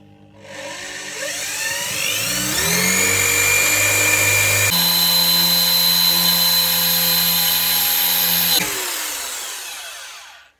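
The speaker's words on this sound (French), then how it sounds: "on va le faire à la perceuse, on va faire plusieurs trous" A power drill bores into metal, its motor spinning up with a rising whine, holding a loud steady pitch, shifting tone partway through, then winding down at the end.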